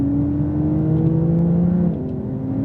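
A Porsche 911 Turbo S on a racetrack accelerates hard, its engine note climbing steadily and then dropping briefly at a gear change before building again, close and loud with no talk.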